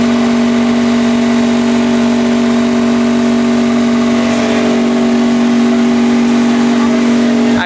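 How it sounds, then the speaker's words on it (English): A hypercar engine idles steadily and loud at close range during track-day preheating, holding a constant deep hum with a slight swell midway and no talking. "The engine is being preheated."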